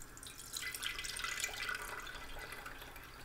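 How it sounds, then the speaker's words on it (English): Beef stock poured through a strainer into a gravy separator in a kitchen, a soft, steady liquid trickle and splash that rises after a moment and continues quietly, with no talking. "I'll carefully pour in our stock."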